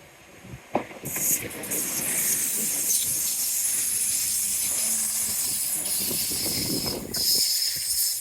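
Loud, continuous high-pitched squealing and hissing from a passing train, with metallic screeches rising and falling over a steady rumble for several seconds.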